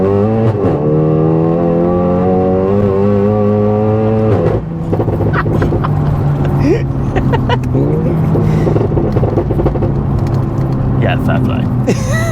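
A fully built 600 BHP Volkswagen Golf GTI TCR race car engine on overrun, loud and close, with droning revs that fall and rise, plus crackles and pops as the throttle comes off.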